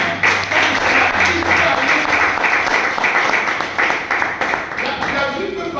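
A church congregation applauds with steady, dense clapping throughout, loud and close, with voices calling out underneath.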